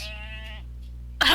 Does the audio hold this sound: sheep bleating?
yes